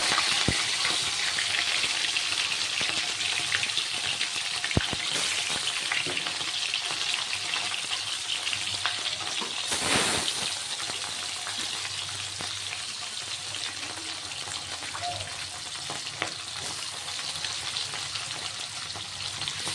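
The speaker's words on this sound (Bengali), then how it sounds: "মাছগুলো ভাজা হোক" Fish frying in a pan in a Bengali home kitchen gives a steady, close, crackling sizzle throughout, with a few faint clinks and no voices.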